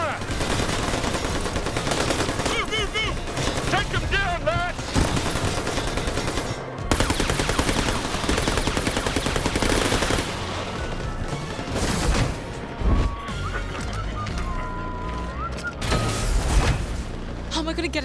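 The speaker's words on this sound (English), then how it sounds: "Covering fire!" Gunfire in New Tales from the Borderlands, continuous loud shooting and bursts mixed with crashes and game effects throughout, with voices talking over the action.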